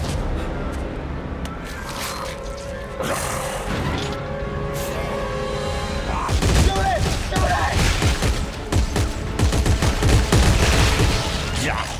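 Rapid bursts of gunfire from the game Dead Space 3, fired at a sealed door, loud and close, building into dense repeated shots in the second half.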